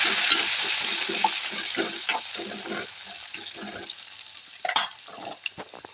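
Peas, coriander and chopped spinach stir-fried in hot oil for a Maharashtrian dry spinach bhaji, a steady close sizzle with scraping stirs and a few sharp clatters, no voices.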